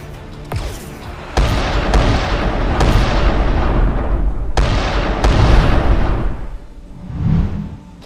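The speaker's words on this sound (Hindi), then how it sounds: "उधर शिप के अंदर से स्मगलर लगातार फायरिंग कर रहे थे" Gunfire from smugglers shooting aboard a ship in an animated cartoon. Several loud, sharp blasts fire in irregular succession, each trailing into a dense, rumbling roar of sustained shooting.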